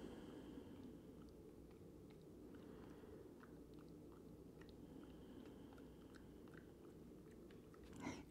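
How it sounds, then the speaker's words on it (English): A pug chews on a piece of cork with soft, irregular crunching and gnawing clicks, close and faint over a steady background hiss, ending in a slightly louder bite. "the soothing sounds of pug chewing cork"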